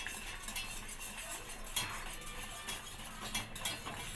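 Moong dal halwa with sesame seeds and ghee being stirred in a pan, giving quiet, steady scraping and clinking of a utensil against metal, close up, with no speech over it.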